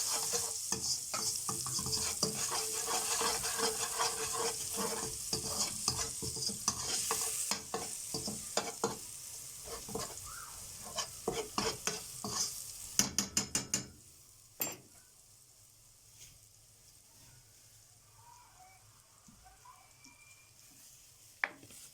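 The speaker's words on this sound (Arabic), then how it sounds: "ندي الثوم بتاعنا تشويحة كده بالشكل ده" Garlic sautéing in a pan while being stirred: a bright, steady sizzle with repeated scraping clicks of the utensil for about fourteen seconds, then a softer, quieter sizzle alone.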